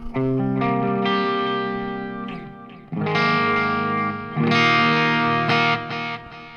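Electric guitar chords ring out drenched in heavy reverb and delay, notes smearing and echoing into one another in a washy, sustained swell.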